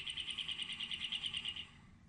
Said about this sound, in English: This is what a cactus finch sounds like.